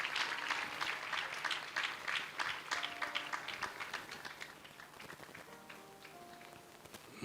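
A church congregation claps and cheers in praise of the Holy Spirit, a dense, steady wash of applause lasting several seconds that thins slightly toward the end.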